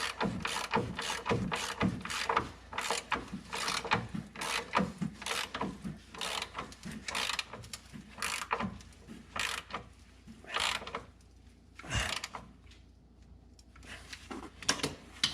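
A wrench ratchets bolts during a 2005 Ford Escape subframe installation, giving close, rapid clicking bursts in uneven runs with short pauses between strokes.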